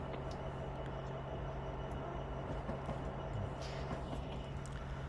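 A train rumbles steadily in the Train Sim 2022 video game, a low continuous rolling drone with a faint tone held over it on a high-speed rail line in Illinois.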